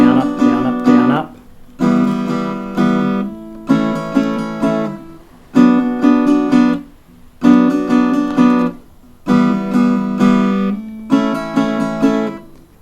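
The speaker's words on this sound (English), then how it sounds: "I'll give you the foundational strum right now, and it's pretty much a down, up, down, up" An acoustic guitar plays a steady down-up strum of full chords for a song, in repeated bursts separated by short pauses, close and loud with no talking.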